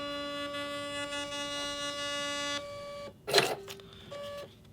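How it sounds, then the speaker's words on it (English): A QL Series label printer hums with a steady tonal whine while printing a label, then goes quiet before one sharp, brief snap of its auto-cutter and a short softer tone after, heard close with no talk. "we're going to set it for auto cut so that it cuts after it prints the label"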